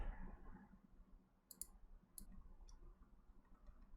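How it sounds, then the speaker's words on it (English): A few quiet, sharp clicks of a computer mouse button with a somewhat mushy feel, over a soft low background hum. "So the mouse click feels a little more mushy or something."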